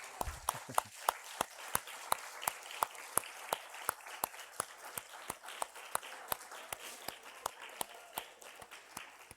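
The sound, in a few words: congregation applauding in church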